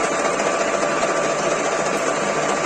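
A metal lathe spins at 400 rpm, set up to turn the outside of a bushing. It gives off a steady, even mechanical hum with a faint whine, with no pauses or talk.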